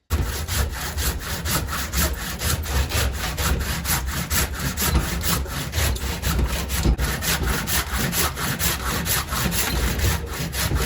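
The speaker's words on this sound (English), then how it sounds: "I'm going to use that handsaw back there and just come right down the back side" A handsaw cuts steadily through a cherry burl in a fast, continuous back-and-forth rhythm, loud and close, with no talking.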